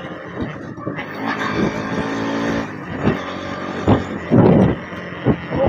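NS 200 / Duke 200 motorcycle fitted with a slipper clutch, riding at speed, its engine note rising and dropping through downshifts with a few sharp revving bursts, loud and close.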